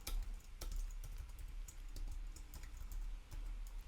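Quick keystrokes on a computer keyboard as a short line of code is typed in an Android Kotlin tutorial, a rapid, uneven run of crisp close clicks with no talk.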